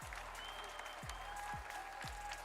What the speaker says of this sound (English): we got a little bit of round of applause there